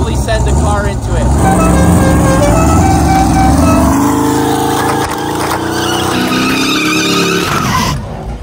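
A car flung by a giant slingshot skids hard, its tires squealing and scrubbing loudly for several seconds before the noise cuts off abruptly near the end.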